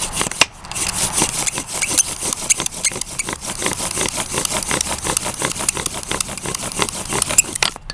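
A wooden bow drill with its string and spindle rubbing against a wooden board, a steady rapid back-and-forth rasping and sawing friction, close and continuous throughout.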